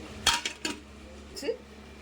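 A lid set down with a metallic clatter on a pot of boiling wild greens, a few sharp clinks and scrapes over a faint steady cooking hum, close by.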